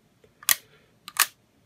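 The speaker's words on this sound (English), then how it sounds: "when you press the shutter, it opens and closes." A Holga 120N camera shutter firing on the N setting: two sharp, close mechanical clicks about 0.7 seconds apart, each a quick open-and-close snap, with near silence around them.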